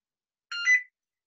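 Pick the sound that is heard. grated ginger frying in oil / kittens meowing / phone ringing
phone ringing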